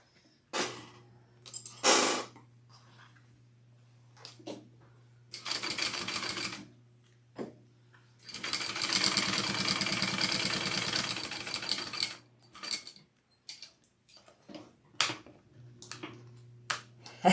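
Sewing machine basting the top of a fabric sling closed, several loud bursts of rapid stitching, one long run in the middle and shorter stop-start runs around it, close by.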